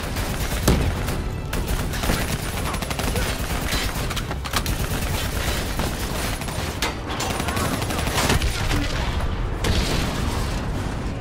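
Heavy sustained gunfire aimed at a VTOL aircraft in Call of Duty: Black Ops III, with dense overlapping rifle bursts, booms and battle clatter throughout.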